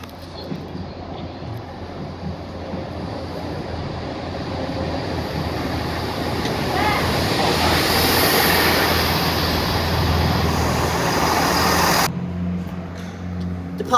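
Class 165 and 166 diesel trains depart Fratton station, a broad rumbling roar that swells to a peak midway and then cuts off abruptly near the end, with no talking.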